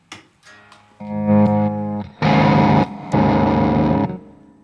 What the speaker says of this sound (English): So this is the Mercury. Okay, because I can tell by the reverb.